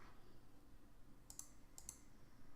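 Two quick, crisp mouse clicks in a survival simulator game, faint and close, over a low steady background hum.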